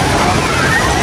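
Artificial waves in a shallow water park wave pool give a continuous, loud wash of sloshing water, broad and steady throughout the short moment.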